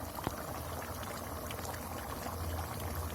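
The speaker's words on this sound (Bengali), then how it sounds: "দেখুন কি সুন্দর ফুটছে" A pot of country chicken curry bubbles steadily at a gentle simmer, a continuous soft burbling with no one talking.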